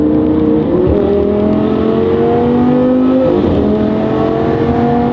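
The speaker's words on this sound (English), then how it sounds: "The Squadra Corsa with this new tune has made this car so much more fun." A supercar engine with a Squadra Corsa tune drones loudly and steadily while driving, its pitch rising and dropping through gear changes. No other sounds break through.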